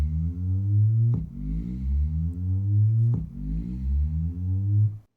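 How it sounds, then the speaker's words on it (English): A soundcore Boom 3i waterproof speaker runs its water-clearing buzz mode, a loud close low tone that pulses in repeating downward sweeps about every two seconds before cutting off. "buzz clean to get the water out of the speakers. Pretty handy, and it sounds like this pulsing noise."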